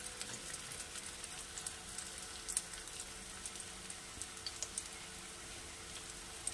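Paneer kabab shallow frying in a pan over a medium-low gas flame gives a steady, faint sizzle with scattered small pops and crackles, heard alone without talking.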